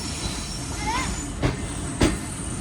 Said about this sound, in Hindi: तो सिर्फ 2 मिनट रुकने के बाद ट्रेन निकल रही है कोट लालू रेलवे स्टेशन से।